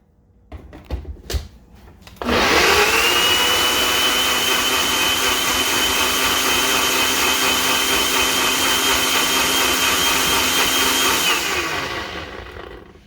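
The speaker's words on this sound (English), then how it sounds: "And all we're going to do is blend this until it's smooth." A blender purees strawberry poppyseed salad dressing, starting after a few brief knocks and settling into a loud, steady motor whir that holds evenly for about nine seconds before winding down.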